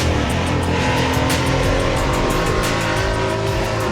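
A monster motorbike weighing 14 tonnes and powered by a Detroit diesel engine roars steadily and loudly, a dense continuous drone with no talk over it.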